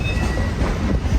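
Rumbling train rolling along rails, taken in from an open-air passenger car with no windows, a steady low roar with a faint high squeal early on, fairly loud and continuous with no talking.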